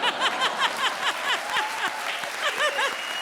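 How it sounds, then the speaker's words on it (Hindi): An audience claps in a comedy show, a steady run of sharp, fairly close handclaps in an even rhythm, with light chuckling underneath. "आप ताली बजा रहे हो।"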